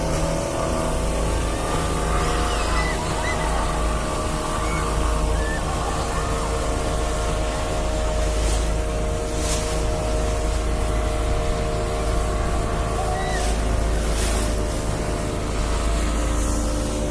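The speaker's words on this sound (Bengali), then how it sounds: "speed boat ride" A speedboat cuts across the Alleppey backwaters on Kerala's vast Vembanad lake, its engine a loud, unbroken drone that stays close throughout, mixed with rushing wind and water noise.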